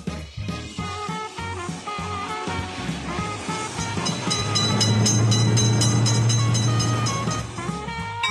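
A train rumbles through a railroad crossing in an Android simulator game, opening with rhythmic clickety-clack wheel beats and swelling into a loud sustained horn blast over the passing cars.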